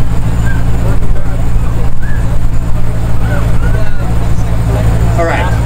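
A loud supercharged BMW exhaust rumbles steadily with faint rising supercharger whistles and chirps on top, building briefly near the end.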